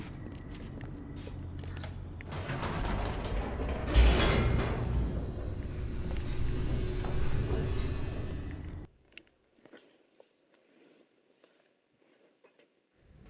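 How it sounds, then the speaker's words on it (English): In the video game The Stanley Parable, an elevator descends with a steady mechanical rumble and rattling hum that swells, then drops off suddenly, leaving near silence broken by faint clicks. "The elevator raced downward, plummeting towards an unknown fate."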